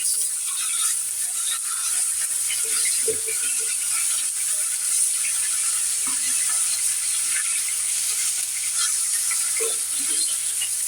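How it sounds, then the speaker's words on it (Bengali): Rohu fish frying in a pan of hot oil, a continuous bright sizzle and crackle held steadily throughout, with a few faint low clatters underneath. "তো মাছ ভাজি হয়ে গেছে আমার বন্ধুরা।"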